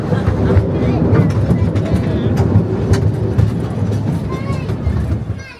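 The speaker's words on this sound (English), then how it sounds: "Still a nice little train ride." A theme park train ride at Drayton Manor rumbles loudly and steadily close by, with faint rail clatter over a busy background and bits of voices mixed in.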